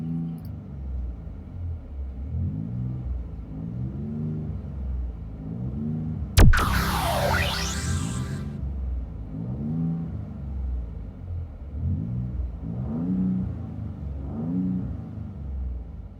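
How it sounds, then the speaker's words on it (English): From inside the cabin, a 2019 Ford Raptor with a Magnaflow true dual exhaust gives a mild, low, throbbing engine rumble that swells and eases steadily, with one sharp click partway through. "Interior tone level is mild with this Magnaflow True Dual Exhaust."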